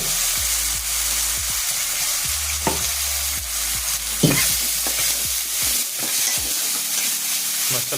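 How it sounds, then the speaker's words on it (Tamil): Ground masala paste frying loudly in hot oil with mustard seeds and a dried red chili, a steady close sizzle broken by scraping strokes of a spoon stirring the pan, with no talking. "இது மசாலா அரைச்சி வச்சது இது எண்ணெயில் மணக்கணும்"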